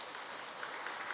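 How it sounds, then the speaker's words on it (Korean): Congregation applause at a church children's department award ceremony, a steady, dense wash of clapping from a crowd, fairly distant and even throughout the short burst. "박수 부탁드립니다."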